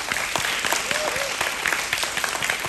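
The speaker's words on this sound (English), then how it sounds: "Give her a round of applause." A round of applause at a graduation ceremony: steady, close crowd clapping with brisk individual claps throughout and faint voices mixed in.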